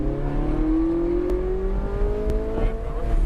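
A sports car, a Porsche GT3 or Ferrari 458, accelerates hard on a race track during a track day, its engine note climbing steadily and loud from inside the car, with an instructor's voice faintly underneath.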